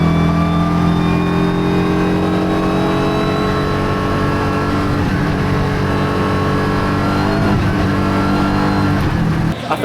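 GT4 race car engine at Spa-Francorchamps in wet conditions, a loud, steady close-up drone with a sustained tone that rises slowly, running continuously under faint talk.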